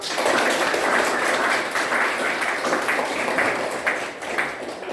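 Classroom audience at an academic supervision session applauds with dense, steady clapping that holds for about five seconds at even volume, then tapers slightly near the end.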